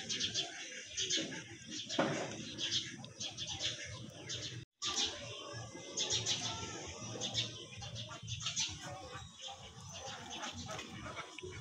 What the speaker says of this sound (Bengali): এই জন্য সব বক কাক কবুতর এভাবেই সন্ধ্যা হইলে